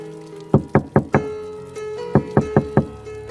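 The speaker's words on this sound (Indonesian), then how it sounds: "Tiba-tiba, pintu diketuk dari luar dengan keras." Someone outside pounds hard on a door in two quick sets of four sharp knocks, with a steady musical drone underneath.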